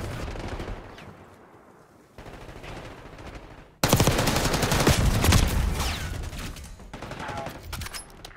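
Dense automatic gunfire in Call of Duty: Black Ops 6 erupts after a quieter stretch, loud and sustained bursts of rapid shots with echoing battle noise around them.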